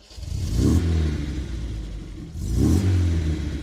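A little two-seater MG car engine starts and revs twice, each rev rising into a close, throaty rumble and easing back, with no voices.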